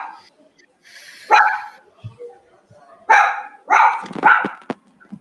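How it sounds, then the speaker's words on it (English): A dog barks in short sharp bursts, several close loud barks with brief pauses between them, over a quiet room with faint voices. "Dog?"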